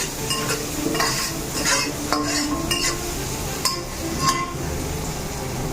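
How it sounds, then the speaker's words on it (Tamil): Onions and green chillies fry and sizzle steadily in a pan while a utensil stirs them, scraping and clinking against the metal in irregular strokes, up close and without talk. "வெங்காயம், பச்சை மிளகாய், பச்சை மிளகாய் போட்டு இது கிளறி"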